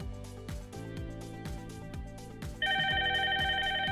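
A phone rings with an incoming test call placed from a cell phone to an Asterisk setup, the electronic ringtone sounding clearly as a steady repeating pattern over rhythmic music playing in the background.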